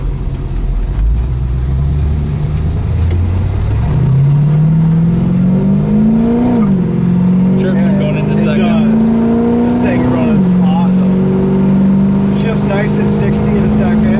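A 1970 Camaro RS accelerates along a road, its engine note climbing steadily through two gear changes under a constant loud rumble of road and wind noise. Someone talks over it.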